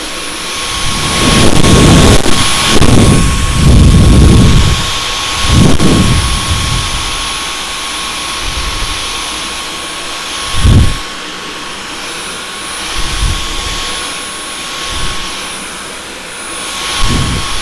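A Dyson V11 Origin cordless vacuum cleaner runs with a loud, steady high-pitched whine and rushing airflow. Its pitch shifts with several deep bumps and thuds as it is pushed across the floor.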